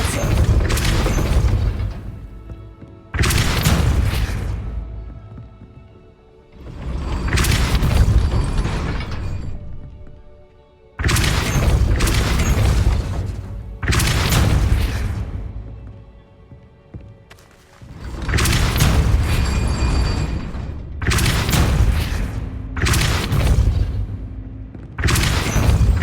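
Depulso spell blasts boom in a Harry Potter video game as a series of loud, heavy bursts, each one a few seconds long, separated by brief quiet gaps and arriving in an uneven rhythm.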